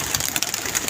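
Pigeons at a rooftop pigeon club, their soft cooing and bird calls mixed into a dense, busy flock noise that stays steady and fairly close throughout.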